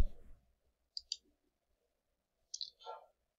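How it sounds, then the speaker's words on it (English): Computer mouse clicks at a desk while working in LED sign playlist software: two crisp double-clicks, one early and one near the end, close and quiet against near silence. "and we'll click on Open."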